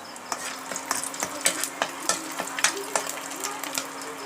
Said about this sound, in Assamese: দি অকণমান লৰাই দিব